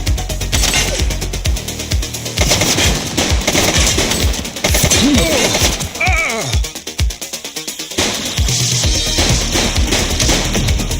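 Gunfire from a suspect shooting in the police game The Precinct, rapid bursts of automatic fire mixed with game sounds and intermittent shouting voices.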